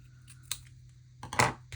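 Scissors snipping craft material for a handmade witch figure, two or three quick close cuts with a small clatter, no talking.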